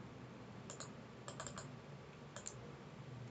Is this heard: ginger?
no